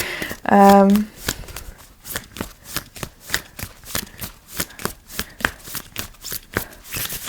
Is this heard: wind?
no